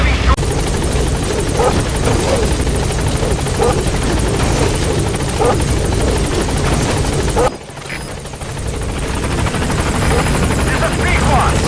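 Pequod's helicopter in Metal Gear Solid V arriving, a loud steady rotor drone with engine whine filling the scene, briefly dipping near the end before swelling back.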